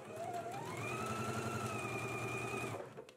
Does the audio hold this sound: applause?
no